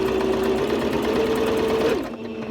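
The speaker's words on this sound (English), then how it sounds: "I'm enjoying sewing in this machine." Steady rapid whir and clatter of a domestic sewing machine stitching up close, a continuous mechanical drone with a pitch drop near the end.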